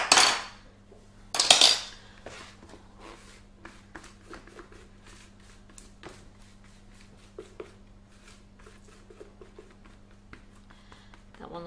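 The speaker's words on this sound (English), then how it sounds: "I'm just going to scrape the bowl" A spatula scrapes carrot cupcake batter from a gluten-free mix out of a mixing bowl, with two sharp, bright clatters at the start followed by a run of soft, close scraping and tapping strokes.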